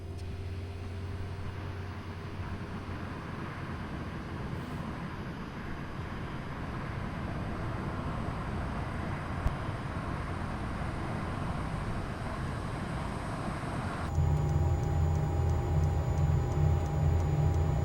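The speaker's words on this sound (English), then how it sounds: "Let's try to start engine number 2." Learjet engine number 2 starting in Microsoft Flight Simulator at Meigs Field, a steady cockpit hum with a rising whine, stepping up near the end into a louder tonal drone with a pulsing low throb.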